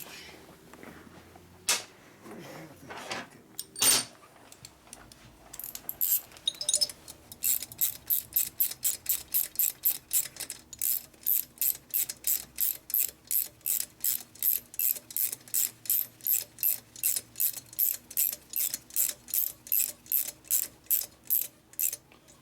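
A ratchet wrench turning bolts into a Harley FXR cylinder head during a top-end rebuild: a few scattered clicks and knocks, then a long, steady run of close, sharp ratcheting clicks in even rhythm, no talk.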